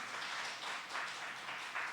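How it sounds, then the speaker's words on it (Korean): A church congregation at a Friday evening worship service breaks into applause, a faint, steady wash of many hands clapping that swells slightly in waves throughout. "여러분 큰 박수 부탁드리겠습니다"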